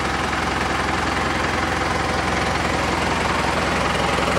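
A Valtra N141 tractor with a SISU diesel engine rated at about 142 to 160 horsepower idles close by, a steady, even, low mechanical rumble that runs unbroken with no talk.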